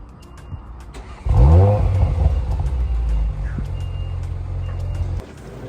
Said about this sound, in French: ce que je vais vous faire écouter, c'est la sonorité du véhicule